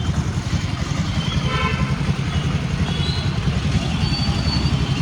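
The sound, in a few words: road traffic with motorcycles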